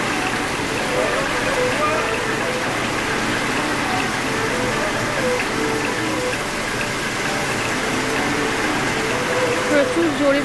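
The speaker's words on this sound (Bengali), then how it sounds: "প্রচুর জোরে বৃষ্টি হচ্ছে" Heavy rain pours down in a dense, steady roar, so hard the air turns misty, heard outdoors by people sheltering on the way to a market, with voices talking over the constant downpour.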